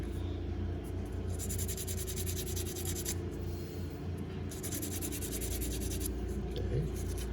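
Sandpaper for metal, 150 grit, rubbed against the edges and sides of a metal ring during resizing, a steady close scratchy rasping in two longer passes over a continuous low background hum.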